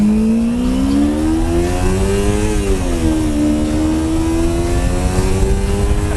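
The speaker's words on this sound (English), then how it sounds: "can hear you revving that thing" A 2005 Honda CBR600F4i or 2005 Kawasaki Ninja 250 motorcycle engine drones loudly and close, its pitch rising as it revs, dipping briefly, then climbing steadily again.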